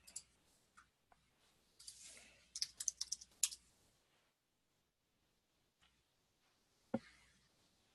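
Keys clatter on a computer keyboard in bursts of quick, light clicks, close and quiet, separated by silent pauses and a few isolated taps.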